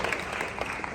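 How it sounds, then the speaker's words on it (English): Audience applause from a large crowd at an early morning meeting, a dense steady wash of many hands clapping at even loudness throughout. "give yourselves a round of applause."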